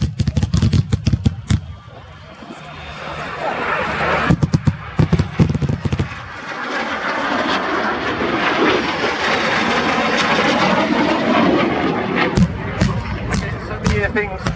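A jet aircraft flies a weapon roll during an RAF Cosford air display, its engine roar building into a loud, sustained rumble with sharp cracks and pops at the start and end, over crowd noise and talk.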